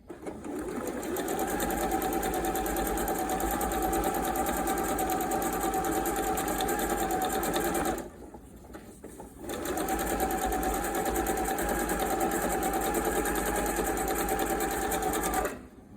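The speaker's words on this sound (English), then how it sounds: "Scooch my machine over so we can kind of see what we're doing. And we are going to just sew." Electric sewing machine stitching a straight seam across fabric, a steady, close, fast whirring rattle that runs continuously, pauses briefly midway, then resumes.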